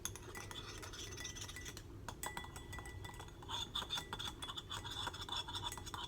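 A homemade face-wash foam is mixed with a utensil in a bowl, producing faint continuous scraping and light clinking strokes that grow busier and more rhythmic toward the end, with no voices.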